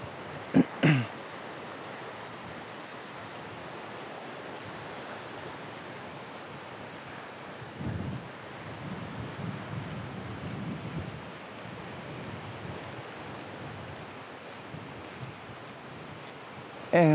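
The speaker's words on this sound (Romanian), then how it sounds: "și ce frumos ar fi fost și pentru mine să nu bată vântul ăsta" Steady wind roaring across the microphone at an open beach in Balchik, Bulgaria, a constant broad rush with slight gusts partway through.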